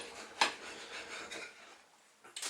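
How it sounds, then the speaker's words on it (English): A knife saws back and forth through a bread roll for a pork chop, bacon and cheese sandwich, giving a close, scratchy rasping with a few sharper strokes and a brief clatter at the end. "sawing the roll in half"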